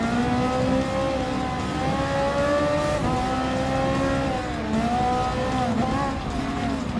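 A Ferrari 458 Italia GT3 racing in Gran Turismo Sport, its engine screaming at high revs with repeated rising and falling pitch sweeps through gear changes, loud and continuous, with other Group 3 cars close by.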